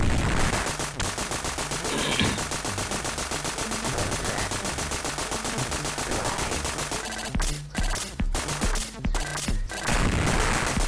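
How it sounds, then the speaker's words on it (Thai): Continuous rapid gunfire from the video game Contra: Hard Corps, with heavy bursts and booms, loud and relentless, briefly dropping out in a few short gaps before resuming. "มันยังยิงปืนออกมาได้อีกครับ"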